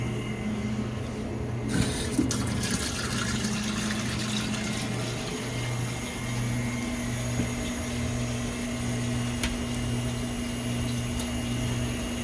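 Water rushing through plumbing to household water heaters after a valve is opened, a steady loud hiss and gush with a low hum underneath, continuous throughout and close.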